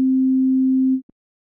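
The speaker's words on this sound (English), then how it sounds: "let's create another sound using the ratios of the square root of pi, this time in Arturia's Synclavier V." A synthesized tone from Arturia Synclavier V, built from partials tuned to square-root-of-pi ratios, holds steady and loud for about a second, then cuts off, followed by a faint brief blip.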